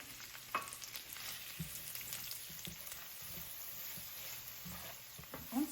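A cup and a half of onions sautéing in a skillet over meat drippings, a quiet, continuous crackling sizzle with occasional soft stirring bumps, no voices.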